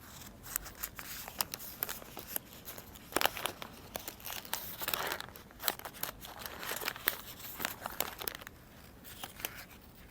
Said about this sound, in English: This is the oil paper.